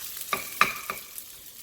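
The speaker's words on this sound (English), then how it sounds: "I'm going to stir fry it for a minute or so." Cold cooked rice with eggs is stir-fried in a hot pan, giving soft scraping stirs and a few light sizzling clatters at a steady pace, fairly close and quiet, with no talking.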